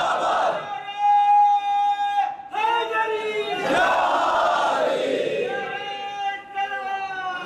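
A crowd at a religious majlis gathering chants rhythmic slogans of zindabad and murdabad in unison, loud and close, with strong sustained voiced shouts rising and falling in repeated call-like phrases.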